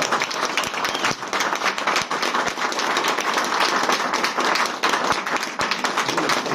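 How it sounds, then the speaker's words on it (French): Wedding guests at a town hall ceremony applaud steadily and warmly, a dense sustained clapping from a close room full of people with a few scattered voices underneath. "Vous avez bien applaudi"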